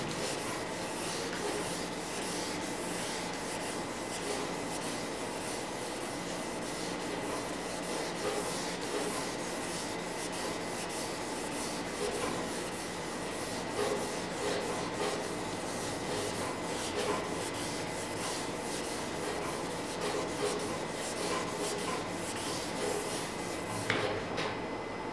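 Car clear-coat varnish is sanded by hand with only light pressure, giving a continuous close rubbing and scraping that goes on for the whole stretch without pause or speech.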